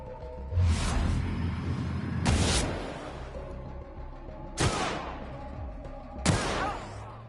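Four loud bursts of video-game gunfire, automatic weapons dumping their magazines, crack out at irregular intervals. Each burst is short and sharp, with a steady layer of game ambience running between them.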